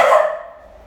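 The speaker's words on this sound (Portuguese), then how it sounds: "Vocês vão escutar o meu querido cachorro latino." A pet dog named Bolt lets out a single close, loud bark that fades quickly into quiet.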